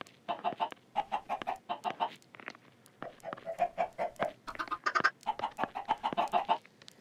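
Chickens cluck in a coop in quick rhythmic bursts of repeated notes, close and clear. One call rises higher near the middle, with no voices over it.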